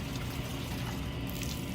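Wet cocoa coir being lifted out of a tub of soaking water, giving a steady, close sloshing and trickling wash of water with a low rumble throughout.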